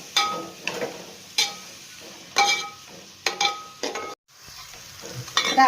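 Curry leaves stirred into masala frying in a pan, with sizzling under a series of distinct scraping strokes of the spoon at irregular intervals, close up, without speech.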